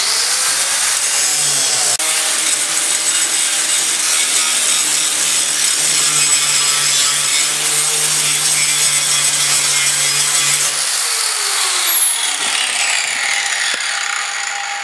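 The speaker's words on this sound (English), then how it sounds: "I'm going to go ahead and grind the rest of these gauges off of here" Power grinder cutting gauges off a classic car dashboard during restoration, a loud continuous abrasive whine running steadily for most of the clip, then tapering off near the end.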